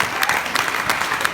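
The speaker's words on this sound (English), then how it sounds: "so I want to give them another round of applause doing this." Brief burst of audience applause, dense clapping filling the short moment with a few sharper individual claps standing out.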